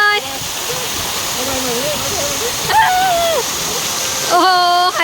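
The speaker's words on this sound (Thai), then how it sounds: "มีน้ำตกเห็ดด้วยครับ" Water pours steadily from an artificial mushroom-shaped waterfall at a Pattaya water park, a constant rushing splash with voices calling out over it.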